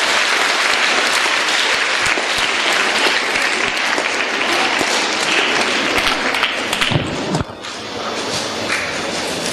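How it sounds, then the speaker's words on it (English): Sustained applause for a winning science quiz team at a school event, dense and steady throughout, with a brief dip near the end as the clapping thins before continuing. "More better round of applause is required for every of these winning team members"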